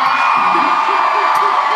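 Live concert audience at the Fillmore in Silver Spring roaring with sustained cheers, whistles and whoops, a dense, loud wall of crowd noise with scattered individual shouts rising above it.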